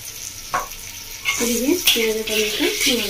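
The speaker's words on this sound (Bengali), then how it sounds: "ভালো করে ভাজা হয়ে গেছে পেঁয়াজ" Onions frying and being stirred in a pan for a Bengali parwal paneer curry: a steady close sizzle with scraping stir strokes, one sharp tap near the start.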